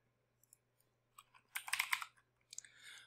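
Keys on a computer keyboard are typed in a short burst of clustered clicks, close and fairly quiet, with a few isolated taps before and after the main flurry.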